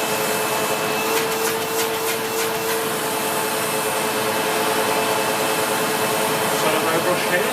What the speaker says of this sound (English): I'll just show you the hose working there